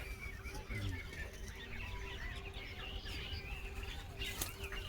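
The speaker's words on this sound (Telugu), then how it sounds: "పక్షులన్నీ ఫుల్గా పండగ చేసుకుంటున్నాయి" Faint, busy chirping and tweeting from many birds in a date palm garden, overlapping calls throughout against quiet background noise.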